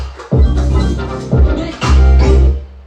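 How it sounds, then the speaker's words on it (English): In a song breakdown, a Serum synthesizer patch with LFO modulation plays loud, bass-heavy, wobbling tones in three surging pulses. It stands alone with no talk. "Yeah, it's like an LFO sound."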